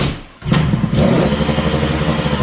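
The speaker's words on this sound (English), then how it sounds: "I'm just going to fire up the bike and play with the idle screw a little bit" A 1973 Kawasaki S2 two-stroke motorcycle engine catches after a brief thud and settles at once into a loud, close, steady idle; no voices are heard.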